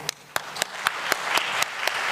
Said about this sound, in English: The hand clap wasn't befitting the keynote that we've listened to.